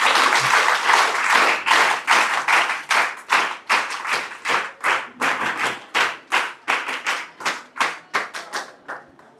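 An audience in a hall applauds at a Telugu Language Day celebration at a college, with dense clapping that thins into slower, separate claps before fading out.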